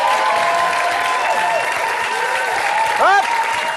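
A French television studio audience applauds loudly and steadily throughout. A voice speaks over the dense clapping near the end.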